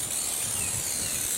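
Outdoor surface spray hisses steadily onto a plant pot for a fruit tree in a continuous, close, bright spray with no speech.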